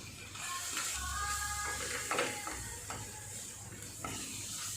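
Pasta being stirred with pasta masala, pepper, mixed herbs, onions and crushed garlic in a hot pan, a quiet sizzle under soft scraping and clinking from the stirring spoon.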